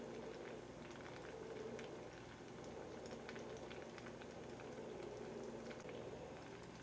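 Kibe sizzles steadily in hot fat, a soft continuous bubbling and crackle of frying heard alone at low volume without pause.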